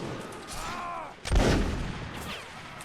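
Cannon fire booms out in a Mount & Blade: Napoleonic Wars battle, a single loud, heavy blast with a deep rumbling tail rising over a steady background of battlefield noise.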